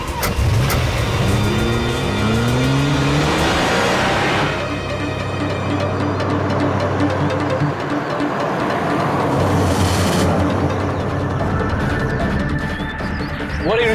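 A car speeds away in a police chase, its engine droning loud and close with rising revs and whooshing passes, while voices talk briefly near the start.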